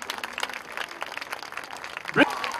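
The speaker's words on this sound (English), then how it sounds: "Ladies and gentlemen, we cannot stop the applause" Applause at an art festival ceremony, steady crowd clapping throughout with a brief louder accent near the end, dense and moderately loud.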